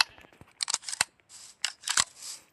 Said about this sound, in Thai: ถ้าเกิดว่ากระสุนหมดใช่ไหมครับ อย่างนี้ นี่ แอนิเมชันในการใส่ปืนนะครับผม